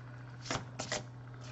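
Tarot cards are shuffled in a few quick riffled bursts, soft papery flutters close by over a faint electrical hum.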